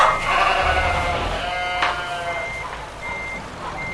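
Steady electronic reversing beeps repeat over a rumbling truck engine in Euro Truck Simulator 2, with a few farm-animal bleats mixed in near the middle.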